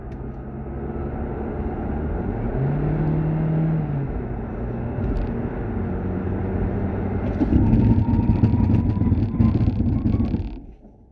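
A Seat Arona, Ibiza, Skoda Kamiq or VW T-Cross with warm 312 mm front brakes and a coded ABS pump speeds up with a steady rising engine drone, then brakes hard to a stop near the end of the run.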